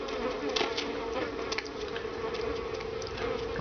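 Flies buzz steadily in Vampire: The Masquerade – Bloodlines, a close, continuous insect drone with small flutters, and no one speaks.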